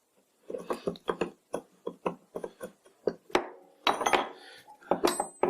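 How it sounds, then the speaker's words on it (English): Metal parts of a Karger bench lathe clink and clatter as the bolt clamping the tool rest is handled, a busy run of close, bright knocks and scrapes with no talking. "This is the bolt clamping down the tool rest."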